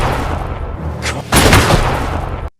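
A loud gunshot-like boom from an action film fight scene bursts in partway through, followed by a sustained heavy rumble over a dense, noisy cinematic background.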